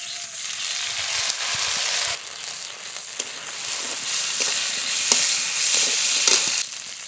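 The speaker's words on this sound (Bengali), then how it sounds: "ডাল ভেজে নেব।" Mung lentils fry in hot mustard oil with a steady, bright sizzle, broken by occasional scrapes and clicks of stirring in the pan.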